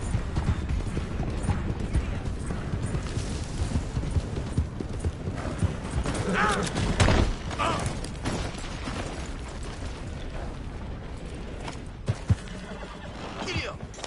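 Galloping horse hooves in the Red Dead video game, a fast, continuous clip-clop rhythm with occasional bursts and mechanical game effects mixed in.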